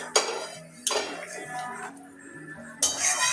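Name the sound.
omelette pieces added to boiling curry in a pan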